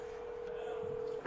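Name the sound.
phone dialing tones while making a call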